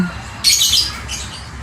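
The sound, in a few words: male lovebird chirping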